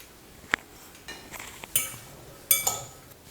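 A spoon clinks and scrapes against a bowl while a chickpea salad is mixed, a few sharp close metallic taps among softer stirring rustles.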